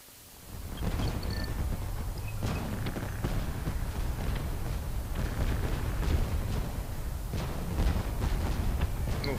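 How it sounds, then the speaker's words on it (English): Fireworks bursting during a night scene in the video game Call of Duty: Ghosts, set in Caracas, heard as a steady stream of crackling pops and dull booms over a constant low rumble, with no pauses. "Fireworks. It's a nice touch."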